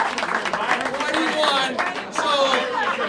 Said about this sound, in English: another big round of applause for Jullisa Ferreras